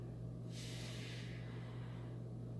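A long forceful exhale, like a deep breath blown out while holding a physique competition pose, rising as a breathy rush about half a second in and fading after a second, over a steady low hum.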